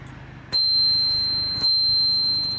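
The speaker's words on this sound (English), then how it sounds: "I like this bell." A bell on a Dualtron Ultra electric scooter rings twice, about a second apart, each a sharp bright ding with a long ringing decay, close and clear with no talking.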